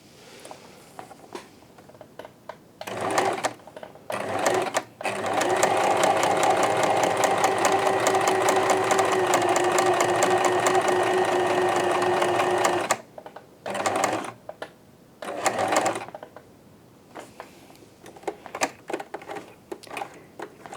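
A sewing machine stitches a four-step buttonhole in a steady, close running whir for about eight seconds, bracketed by shorter starts and stops and clicks of adjusting the machine.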